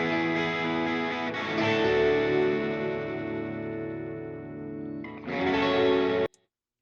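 Distorted electric guitar strums standard chords with chorus and echo effects, as in a multitrack mixing session. The chords ring out, decay, then come back in a fresh loud strum before a sudden stop.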